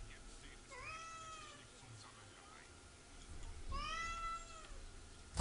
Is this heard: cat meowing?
yes